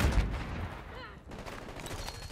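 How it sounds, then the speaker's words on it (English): Makarov pistol fire in Call of Duty: Black Ops 6, rapid gunshots and battle noise in a busy multiplayer match, dense and continuous with a brief lull partway through. "Takes four bullets, body shots, to kill someone with a Makarov."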